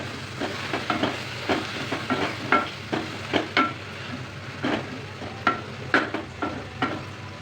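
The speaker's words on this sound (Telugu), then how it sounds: "ఇప్పుడు ఈ గోంగూర నేతిలో వేయించాను." Gongura leaves frying in ghee, a quiet close sizzle broken by repeated soft scraping stirs at an uneven rhythm.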